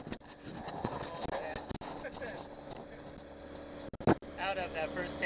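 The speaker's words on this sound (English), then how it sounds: "Johnson 90 horsepower running and kicking strong." A Johnson 90 horsepower outboard motor runs on a boat on the Potomac River as a constant rumbling hum beneath voices talking and rushing wind.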